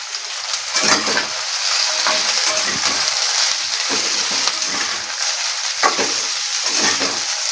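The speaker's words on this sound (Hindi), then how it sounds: "मुनगे को प्याज में अच्छे तरीके से फ्राई करेंगे" Drumstick pieces frying with onion in a pan over medium heat, a steady sizzle with repeated scraping stir strokes at a fairly even rhythm, close and clear with no talking.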